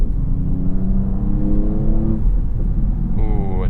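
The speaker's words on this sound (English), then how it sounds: "revving up to the next gear, it will shift." A 2023 Audi S6 sports sedan accelerates through its gears from inside the cabin, the engine note rising steadily, dropping at a shift, then climbing again, while a voice talks over it.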